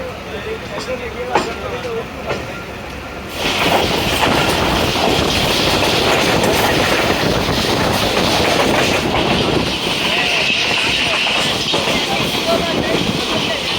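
A diverted passenger train runs on rails near Gujranwala, with steady rumbling and clickety-clack wheel noise that grows louder and rougher partway through, heard from on board, with faint talk and noise early on.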